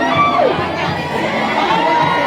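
Excited crowd of fans screaming and cheering at a Miss Grand Thailand 2022 arrival event in Laos, a loud, continuous mass of high shrieks and shouts filling the whole stretch without a break.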